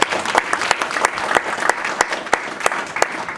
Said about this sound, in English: Let's clap it up for Liberty.